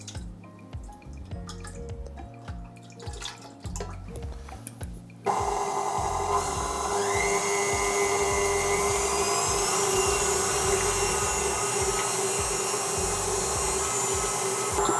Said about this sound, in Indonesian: membuat whipped cream, yaitu mengocok krim, heavy cream ya